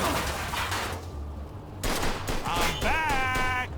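Rapid bursts of gunfire in Mafia II: Definitive Edition crackle over a steady low hum, with a rising electronic tone sweeping in near the end.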